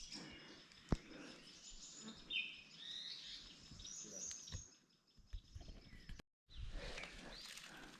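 Many birds call and chirp together in a Sahyadri hill forest along an old ghat trail, a dense overlapping chorus of tweets and whistles with a few soft footsteps, steady throughout apart from a brief cut.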